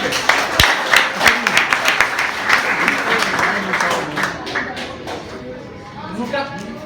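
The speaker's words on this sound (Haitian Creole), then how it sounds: "Applaudissez pour nous, s'il vous plaît." Audience applause fills a family evening gathering, dense steady clapping close by that tapers off toward the end, with voices mixed in.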